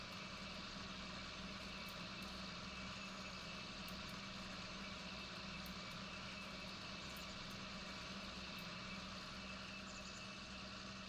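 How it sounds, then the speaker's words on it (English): A John Deere 4440 tractor engine runs steadily on a farm, a continuous low droning rumble with a constant hum that holds at the same level from start to finish, with no voices. "I really do like this tractor."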